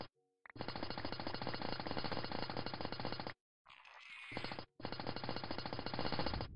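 A GregTech mining drill from the Minecraft mod, one tier below the top model, runs in loud continuous rattling bursts, cutting out briefly twice with a short different whir in between, with no talk over it.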